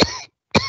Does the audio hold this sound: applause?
no